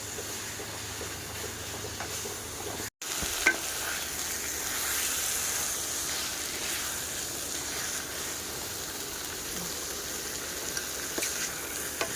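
Spice paste and meat are stirred in a sizzling pan, a continuous bright frying hiss with scraping stir strokes throughout, steady and close, with one brief dropout early on.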